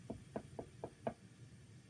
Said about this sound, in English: And then suddenly there was a knock at the door.